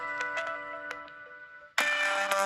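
A damaged bottom speaker on a Samsung Galaxy S10e phone plays a ringtone: tinny, buzzy tonal chimes with ticking blips, then a louder, harsher burst of tones near the end, with no talk.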